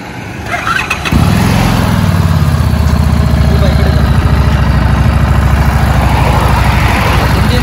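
A new Harley-Davidson motorcycle engine cranks and fires after a second of quiet, then settles into a loud, deep, lumpy idle that throbs steadily close by.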